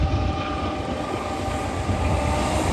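A CSX freight train's DPU locomotive works hard nearby, giving a loud, steady, rumbling roar with no break.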